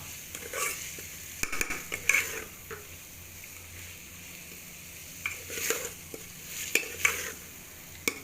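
Potatoes are stirred and mixed in a pot for an aloo matar doodh curry, with soft scrapes and occasional spoon clinks against the pot over a gentle background, and no talking.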